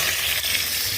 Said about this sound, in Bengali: পেঁয়াজ কাঁচামরিচ ভাজা হয়ে গেছে,